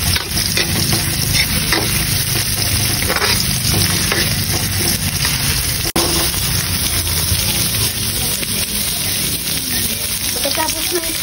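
Chopped onions fry and get stirred in a pan for spaghetti sauce, giving a loud, continuous close sizzle with scraping stir sounds throughout.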